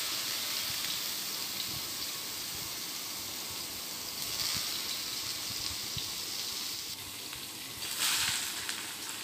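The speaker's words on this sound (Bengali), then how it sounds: "আর এই চুলায় মাছ ভেজে নিতেছি।" Fish frying in oil in a karai on a home stove in a Bangladeshi kitchen gives a steady, close, broadband sizzle throughout, swelling briefly louder a couple of times, with no talking.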